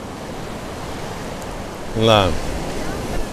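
Rainwater from a tropical cyclone pours off a washed-out road on Koh Phangan, Thailand, as a steady broadband rush like a river, with a brief spoken word partway through.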